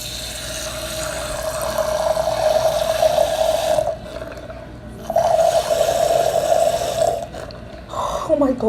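Liquid for a lemon challenge drink pours in two close, steady streams with a short pause between them, followed by a brief splashing trickle.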